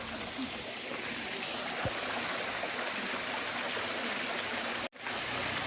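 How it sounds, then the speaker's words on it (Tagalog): A stream flows from a waterfall along a hiking trail, a continuous broad rush of water heard close with a momentary dropout near the end. "The waterfalls."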